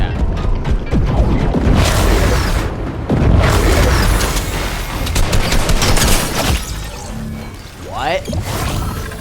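Ray gun blasts crackle through a chaotic Fortnite battle, a dense run of mechanical bursts and booms with sharp zapping sweeps near the end, while a player talks over the action.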